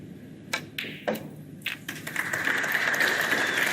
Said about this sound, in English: deserved the applause